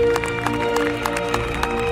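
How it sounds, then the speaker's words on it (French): A crowd applauding at the close of the bonfire at the Cucurbitades folk festival: a continuous wash of clapping at a fairly steady level, with a faint tonal background underneath. "sous un tonnerre d'applaudissements"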